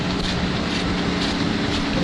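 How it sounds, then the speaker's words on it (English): Steady low rumble of a cruise ship's engine with broadband water rush as it moves through the North Sea, continuous and fairly loud. "you can hear the boat going along the ocean."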